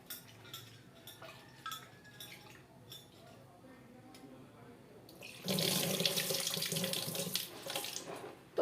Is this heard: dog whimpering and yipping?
no